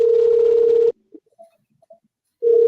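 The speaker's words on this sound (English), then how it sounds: "I'm getting a phone call." An incoming call rings as a steady electronic telephone tone that sounds for about a second, falls silent with only faint small noises in the gap, then resumes, forming a clear ring cadence.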